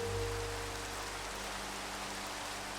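Rain in the Minecraft video game makes a steady, soft hiss with even, unbroken texture, with no voices over it.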